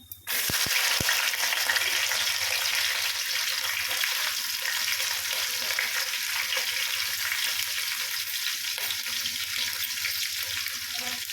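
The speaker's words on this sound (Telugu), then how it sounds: "ఇప్పుడు ఉల్లిగడ్డ పచ్చిమిర్చి వేసుకుందాం" Onion and green chili dropped into hot oil with spices, an abrupt burst into a loud, dense, steady sizzle that holds evenly throughout with no talking.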